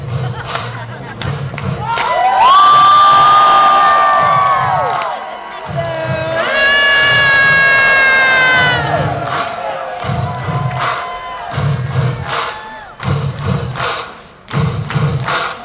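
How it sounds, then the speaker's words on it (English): Crowd at the Pittsburgh Renaissance Festival joust roaring two long, loud waves of cheers and shouts, with rhythmic thumping between and after them, fairly near and lively. "Let's give it a big cheer."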